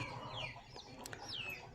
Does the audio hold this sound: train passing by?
no